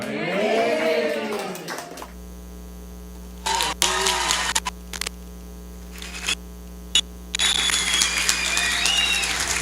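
A congregation applauding in a church, bursts of clapping that start and stop in short patches over a steady electrical hum, with a voice heard briefly at the start.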